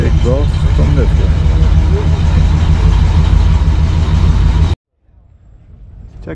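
A vintage car at the AACA car show in Hershey, Pennsylvania idles with a deep, steady exhaust rumble under nearby talk, then the sound cuts off abruptly into near-quiet.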